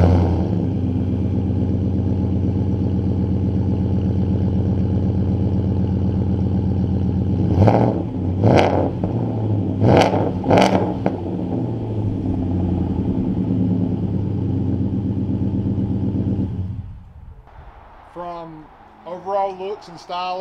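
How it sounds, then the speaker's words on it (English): A 2020 Ford F-150 Raptor pickup with a Roush performance exhaust idles loudly and throatily, then revs sharply four times in quick bursts, settling back to a rumble before a person starts talking. "Let's hear that exhaust."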